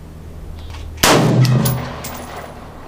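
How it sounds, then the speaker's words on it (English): A single unsuppressed rifle shot from an RRA AR15 on a range cracks sharply and loudly after a second of quiet. The report then rings and decays over the next second. "I'll go ahead and take a shot without the suppressor"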